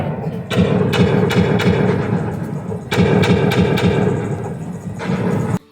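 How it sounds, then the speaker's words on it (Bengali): Toy guns firing at skeleton targets in a Disneyland shooting gallery, a loud, busy run of sharp thuds and pops over a dense, roaring crowd and ride ambience, with a few distinct bangs standing out. "আমরা এখন এসেছি একটা শুটিং গ্যালারির মধ্যে যেখানে প্রচুর বন্দুক তোমরা দেখতে পেয়েছো আর সেই বন্দুক থেকে গুলি এই স্কেলেটনের উপরে যাচ্ছে"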